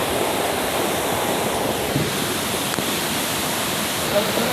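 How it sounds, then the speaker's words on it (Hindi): Rushing floodwater after ten minutes of heavy rain in Balochistan, a loud, steady broadband roar of fast-flowing water, continuous and close, like a torrent or waterfall. "इधर पानी की स्पीड आप देख सकते हैं।"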